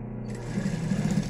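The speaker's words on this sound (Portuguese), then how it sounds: "Eu vou fazer essa costura aqui, ó, que também não tem mistério." A sewing machine stitches the sides of a thermal lunch bag, running with a steady close rapid mechanical hum and needle chatter throughout.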